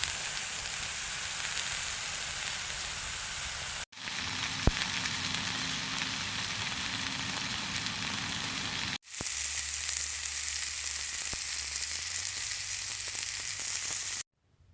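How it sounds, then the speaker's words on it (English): Mushrooms and a bison burger fry in a pan with a steady sizzle, broken by two brief cuts, close and moderately quiet with no talking. "Decided to throw some mushrooms in there so I can have a mushroom bison burger."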